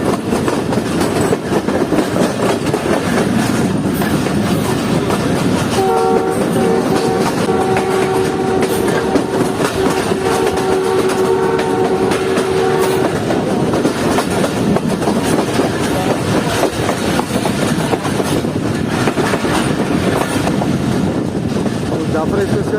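The Jaffer Express rolls through Shahjahanabad junction in a loud, continuous rumble with rhythmic wheel clatter, and a sustained horn blast sounds midway.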